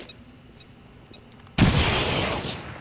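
In the video game XCOM 2, a few faint clicks give way to a sudden loud grenade blast with gunfire, a sharp onset followed by a sustained rumbling roar that slowly fades.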